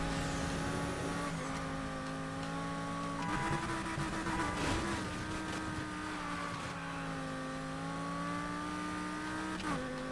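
Game engine of an all-wheel-drive car in Need for Speed Heat, a steady harmonic drone that holds pitch with small shifts and dips around a few gear changes, loud and continuous throughout, with no talk.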